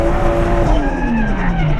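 Toyota JZX100 Cresta drifting at Ebisu circuit with the handbrake pulled, a loud continuous engine drone with a falling pitch and tire noise across the whole run, no talking.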